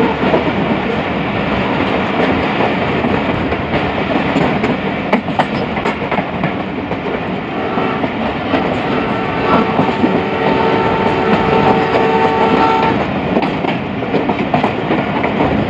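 A passenger express train crosses on a Pakistani railway line near Lahore: a loud, steady roar of rolling wagons with rhythmic wheel clatter and humming tones, sustained close by throughout with no talk.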